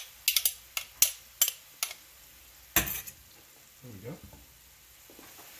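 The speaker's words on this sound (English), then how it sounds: "So I'm going to add the garlic to it, right to the skillet" Minced garlic and vegetables hitting a hot skillet for a brunch frittata, a series of sharp clatters and sizzling bursts with scraping utensil sounds, and a brief spoken phrase near the start.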